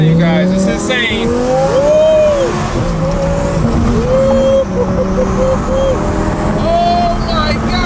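A 1000-horsepower twin-turbo Lamborghini accelerates hard, its engine note rising and falling loudly through gear changes, heard from inside the car while people talk over it.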